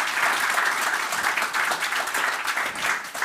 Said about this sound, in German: das hat einen kleinen Applaus verdient